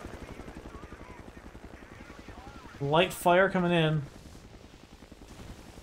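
A helicopter in the video game Battlefield 2 churns with steady rotor chop throughout, while a radio voice speaks briefly over it and bursts of gunfire crackle nearby.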